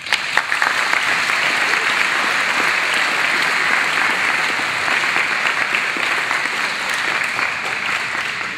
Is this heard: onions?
no